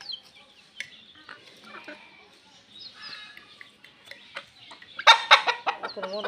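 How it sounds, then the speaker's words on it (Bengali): A rooster clucks and chatters, soft scattered calls at first, then a burst of louder, sharper clucks near the end. "মোরগটা অসাধারণ।"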